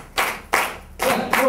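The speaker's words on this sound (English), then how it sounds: "We are ready to clap here." Hands clap in a steady bomba rhythm, four loud, bright claps about half a second apart, close by and ringing with some room echo.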